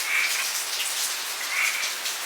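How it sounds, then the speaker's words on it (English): Steady rain pours during Hurricane Ian near Orlando, a dense continuous hiss of drops on surfaces with no talking, moderately loud and unbroken throughout. "I'm getting rained on."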